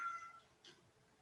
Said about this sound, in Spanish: Perdonen si escuchan un gato maullar